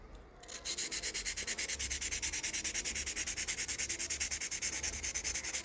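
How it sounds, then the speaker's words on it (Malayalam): Steady rhythmic sandpaper strokes rub back and forth across an old wooden box part during restoration, a fast even scratching pulse, close and continuous without speech. "അപ്പോൾ അത് അവിടെ കൊടുക്കുന്നതിന് മുമ്പ് നമുക്കൊന്ന് പേപ്പറൊക്കെ പിടിച്ചൊന്ന് കളറാക്കി എടുക്കണം."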